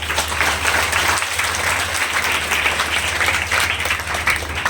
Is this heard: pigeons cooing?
no